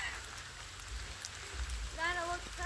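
Steady rain falls in a broad, even hiss while people swim outdoors in the downpour; a voice rises briefly near the end.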